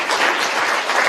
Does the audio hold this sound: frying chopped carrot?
no